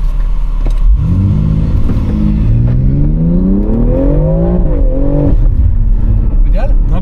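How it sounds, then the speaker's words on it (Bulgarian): A BMW X3 M Competition engine revs hard with the gas pedal held down, its note climbing steadily for several seconds and then dropping off. It is close and loud inside the car, with faint voices in the background. "Не пипай колата, остави я до края, само дръж педала на газта."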